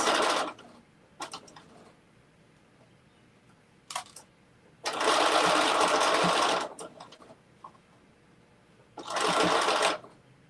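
A sewing machine stitches the brim of a fabric bucket hat in two loud sustained runs of fast, buzzing needle strokes, separated by quieter pauses with brief clicks and handling noises.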